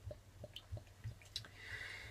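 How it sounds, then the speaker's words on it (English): A pale Helles-style lager from Privatbrauerei Hösl is poured into a glass. A few quiet clinks and drips come first, then a soft foaming fizz rises near the end, all faint and close. "I'm just going to pour it all into this nice glass that I was given recently"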